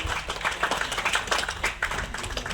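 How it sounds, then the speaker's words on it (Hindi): An audience applauds at an award function to welcome a performer onto the stage, a dense, steady patter of many hands clapping that holds at a moderate level throughout. "तो एक बार जोरदार तालियों से स्वागत करें सौरभ गौरव मिश्रा"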